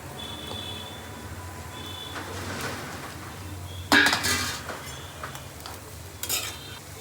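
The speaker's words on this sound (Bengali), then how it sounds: "তারপর দিয়ে দিচ্ছে সব সবজিগুলোকে।" Vegetables tumble into a pan of shrimp being cooked, a sharp clatter near four seconds followed by stirring and clinking of utensils against the pan over a low sizzle, with another brief clatter later.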